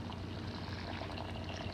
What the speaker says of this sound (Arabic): أول حاجة عندي هنا 200 جرام من العدس، هضيف ليهم مية وهنقعهم من بالليل للصبح.